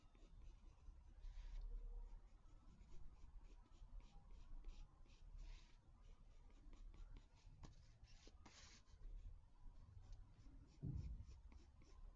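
Pencil on paper sketching an ice cream cone, with faint scratchy strokes in quick repeated bursts, soft and close, with a short louder rub near the end.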